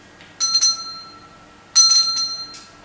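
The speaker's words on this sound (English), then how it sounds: "The bell invites me." A bell rings twice in a staged Macbeth performance, two bright clear strikes a little over a second apart, each with a ringing, slowly decaying tone and no talk over them.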